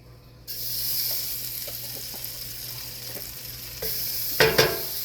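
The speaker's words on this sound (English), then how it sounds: "So here I'm gonna add some butter to my pan." Butter melting in a pan over low heat for an Alfredo sauce gives a steady, close hiss of sizzling, with a few light clicks and a brief louder burst near the end.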